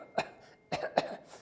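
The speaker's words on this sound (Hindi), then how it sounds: "मुझे खांसी वैसे ही आ रही है जैसे पहले आती थी।" Three short coughs, one near the start and two close together about half a second later, fairly close and clear, no talking.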